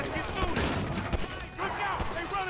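Rapid bursts of video game gunfire crackle continuously during aiming and shooting, dense overlapping shots under a speaking voice.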